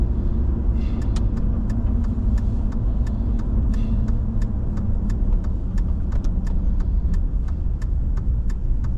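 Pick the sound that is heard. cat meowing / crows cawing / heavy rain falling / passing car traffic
passing car traffic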